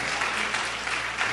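Church congregation applauding, a dense, steady wash of many hands clapping close and loud for a brief moment, with faint voices mixed in.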